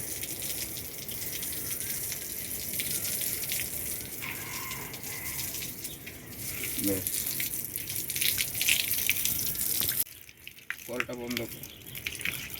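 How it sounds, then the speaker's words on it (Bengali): Water from a tap runs and splashes steadily while a rooftop garden terrace is washed, under intermittent talking, and then cuts off near the end. "এইভাবেই পুরো ছাদটা ধুয়ে নিচ্ছে"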